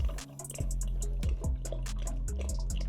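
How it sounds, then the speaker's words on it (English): Water drips from coffee brewer nozzles into a drip tray in a café setting, a series of close, distinct plinks at an uneven rhythm over a low continuous trickle, with no talk. "You can see the drip tray is filling up with water."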